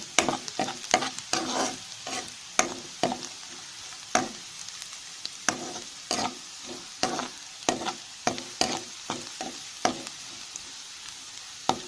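Garlic sautés in a pan for tomato thokku, with a soft steady sizzle broken by sharp, repeated scraping taps of a spoon being stirred, close and clear with no talking.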